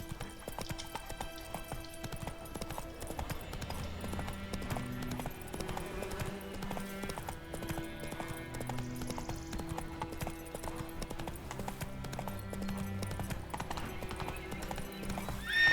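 Roach the horse gallops in The Witcher 3, rapid rhythmic hooves pounding continuously up close beneath layered in-game music.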